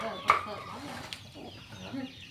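A chicken clucks in short, irregular bursts close by, with a sharp squawk near the start, mixed with people talking quietly in the background.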